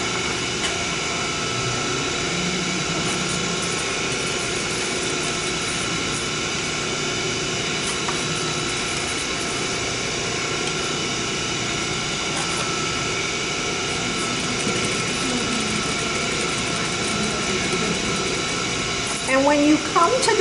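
A sewing machine runs steadily and continuously while topstitching a blouse hem, a close, even mechanical whirr with a faint rhythmic needle beat throughout.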